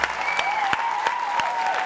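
A studio audience applauds warmly during a French TV show, a steady close patter of clapping hands throughout, with a faint tonal hum underneath.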